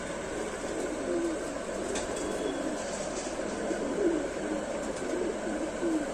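Lal Sira pigeons coo softly, several low repeated calls spaced every second or so over a constant background hiss.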